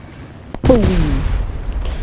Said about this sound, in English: I'll drop 2 more so you can see what the explosions are like